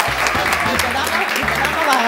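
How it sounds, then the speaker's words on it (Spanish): A studio audience on a TV variety show claps in a dense, continuous wash of applause under a loud speaking voice. "este fuerte aplauso de corazón va para ustedes"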